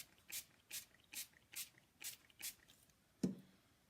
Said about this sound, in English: let me give it some more spritzing